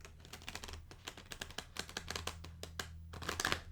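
Tarot cards from a Luminous Void deck shuffled by hand, a quick run of crisp riffling clicks and flutters, close and fairly quiet, with no talking.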